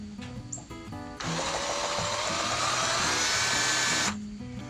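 Power drill boring into a wooden largemouth bass carving, whining loudly for about three seconds in a single steady burst, close up, with quieter background sound before and after.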